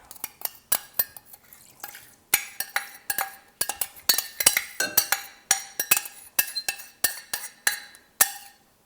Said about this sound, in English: we're going to mix this solution into the glue